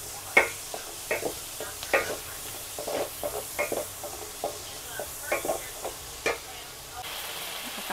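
Bihon noodles being stir-fried in a pan, with a soft continuous sizzle under repeated scraping and tossing strokes that come in short irregular bursts, close and fairly quiet.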